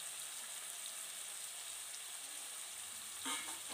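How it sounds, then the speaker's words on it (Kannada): Prawns frying in hot oil in a pan, giving a steady, even sizzle that carries on throughout with a brief louder stir near the end, and no talk over it. "ಇಷ್ಟನ್ನು ಮಾತ್ರ ನಾನಿವಾಗ ಫ್ರೈ ಮಾಡ್ತಿರೋದು."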